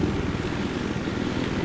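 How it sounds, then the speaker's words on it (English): An airplane flies in the Battlefield 4 video game, its steady droning engine holding loud and close throughout with no break. "That's a plane."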